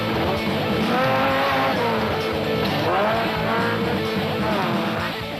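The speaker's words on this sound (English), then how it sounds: "The Toyota was getting flogged." A Toyota off-road race vehicle at the Sun City 400 revving hard with rising and falling engine pitch while sliding sideways, a loud close roar with tire skid noise, sustained throughout.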